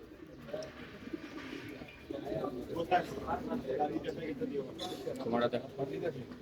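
Pigeons cooing softly at a pigeon racing club in Mirpur during a tournament, low throaty coos repeating under nearby people talking.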